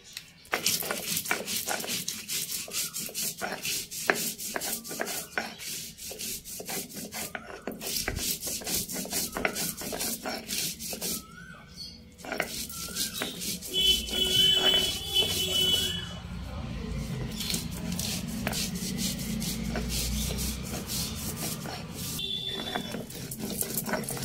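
Poppy seeds ground with water on a flat grinding stone, a steady rhythmic scraping and rubbing of stone on stone, close and fairly loud, running throughout with brief pauses.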